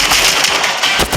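Gunfire in the mobile shooter Standoff crackles as a quick burst of sharp, loud shots that run together into a dense rattle.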